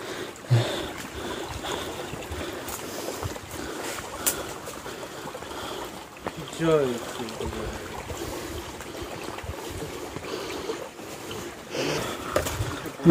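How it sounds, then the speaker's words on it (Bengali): Waterfall water flows as a stream beneath a remote hill trail in Purulia, giving a steady, rushing wash with a few brief knocks and rustles and no talking. "আর নিচ দিয়েও ঝর্ণার জল যাচ্ছে।"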